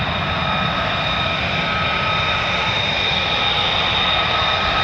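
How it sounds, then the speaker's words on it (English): Alpha Jet military aircraft fly at an air show alongside USAF F-15E Strike Eagles and F-35A Lightnings, a steady loud jet engine roar with a high whine that holds constant throughout. "Sounds like we may have the Alpha jets as well."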